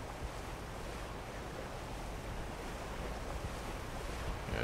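Draining water inside the Black Mesa video game produces a constant rushing, surf-like wash that swells slightly toward the end, with no speech present.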